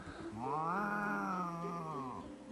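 A single drawn-out, wavering bobcat meow in a video game, rising and then falling over about two seconds, clear and fairly close.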